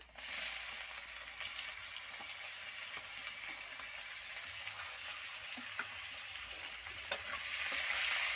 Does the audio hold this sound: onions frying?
yes